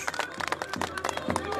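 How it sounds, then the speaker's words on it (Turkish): Crowd applause at a Turkish horseback javelin (cirit) event, scattered claps and cheering under a loud announcer's voice. "Bir moral alkışı verin ya"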